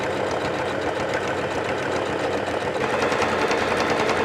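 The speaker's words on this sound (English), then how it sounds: "I'm sewing down the entire folded section that we've just created" A sewing machine runs steadily at close range, sewing down a folded section of a self-drafted top, a continuous loud whirring hum with fast mechanical chatter and no voices.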